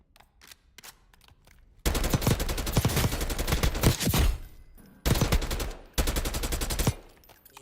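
Rapid automatic gunfire in a video game, loud bursts of dense rattling shots in two long stretches with a short pause between, preceded by a few faint clicks.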